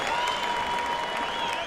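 A boxing arena crowd applauds and cheers at the end of a Giovanni Lorenzo vs. Raul Marquez fight, a dense, steady roar of clapping throughout with no pauses.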